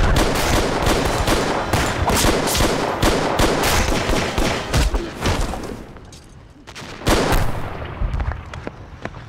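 A wartime battle with cannon blasts and rifle and machine-gun fire, heard as dense, loud bursts of shots and booms that ease briefly before another heavy volley.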